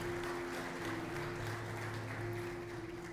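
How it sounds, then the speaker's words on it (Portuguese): A church congregation applauds during a Santa Ceia worship service in Curitiba: a continuous crowd of clapping hands over a steady, low tonal hum, sustained evenly throughout without speech. "dê uma salva de palmas para Jesus"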